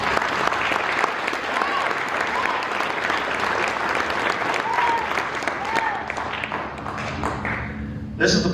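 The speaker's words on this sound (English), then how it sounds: "So please give them a round of applause." An audience at a welding graduates' banquet gives a sustained round of applause, dense and steady clapping filling the room, thinning out toward the end as a voice begins to speak.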